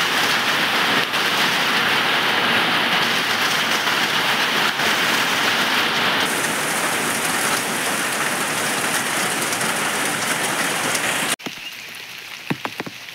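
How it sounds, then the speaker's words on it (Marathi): Heavy May rain in Konkan pours steadily in a dense, continuous roar, then drops away abruptly near the end, leaving scattered drips and light patter. "पावसानं हजेरी लावली. पाऊस जोरात सुरू झालेला हा."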